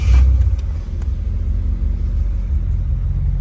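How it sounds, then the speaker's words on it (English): A 1962 Ford Thunderbird convertible engine fires up with a short burst at the start, then settles into a steady, loud low-pitched idle rumble close by, with no talking. "we'll start up this Thunderbird"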